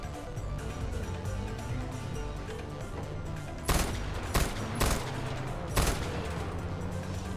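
Sharp, loud gunshots in the video game Far Cry 4 ring out in four separate bursts over a steady background of game noise and distant firing.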